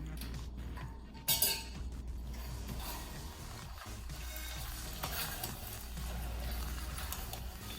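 Rice with green onions cooks in a pot and sizzles steadily while being stirred, with a brief clink of the spoon against the pot early on and a continuous close frying hiss throughout.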